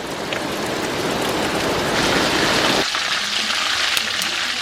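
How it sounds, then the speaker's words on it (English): Steady rain falls outdoors as a dense, close hiss of drops on surfaces; partway through, the low rumbling part drops away and a lighter patter carries on to the end. "Yay, it's raining!"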